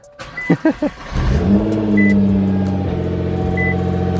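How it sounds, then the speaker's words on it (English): A Nissan GT-R with stock exhaust idles then revs up loudly, holding a deep throaty exhaust roar close by, after a few brief sputters. "it's pretty loud for a stock exhaust"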